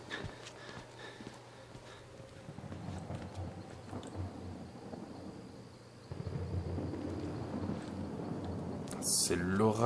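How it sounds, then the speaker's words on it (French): A thunderstorm in the horror video game Outlast: low rolling thunder and steady rain-like noise run through, with a louder rumble building toward the end, heard faintly under the game's ambience. "C'est l'orage."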